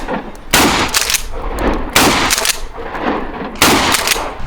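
Guns fired at an outdoor tactical shooting range in Cape Town, four loud, close shots spaced about a second apart, each with a short echoing tail.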